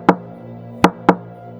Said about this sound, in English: a soft knocking sound came from the wall beside him.